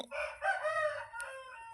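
A rooster crows once, close and loud, in a full-throated cock-a-doodle-doo that trails off, with no speech around it.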